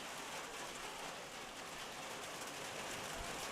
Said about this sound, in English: now the rain going to start to get heavy quickly